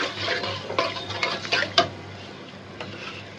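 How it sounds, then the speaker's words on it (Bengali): Beef and tilapia fish sautéing in a pan with chilli, ginger-garlic paste and salt: scraping stirs and a few sharp clinks of a utensil against the pan over a low sizzle, close and fairly quiet. "তাহলে সুন্দর করে আমরা কষাইতে থাকি"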